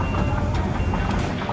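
A rented 16-ton excavator backing up: a loud, continuous engine rumble with a repeating reversing beep, close by and running the whole time, with no talking.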